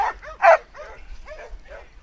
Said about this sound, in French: Allez, on aboie, on aboie.